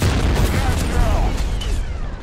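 A gas barrel explodes in a team-based shooter video game with a heavy boom and crackling debris. A rumbling tail with scattered pops and metallic zings follows, and game voices and effects sound over it.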